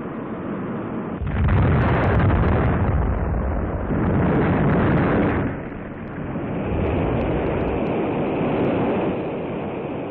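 A Centaur rocket on an Atlas booster explodes shortly after launch following a malfunction, heard as a loud, continuous roaring rumble that surges, dips and swells again across the whole span, muffled like an old archival recording.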